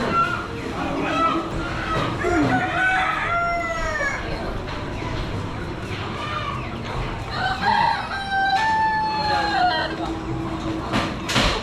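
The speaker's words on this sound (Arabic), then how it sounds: "كاع الدجاج كاين، البيض البلدي" Several roosters crow repeatedly over steady clucking from a crowd of chickens, with people chatting nearby in the lively Souk El Had market in Agadir, Morocco.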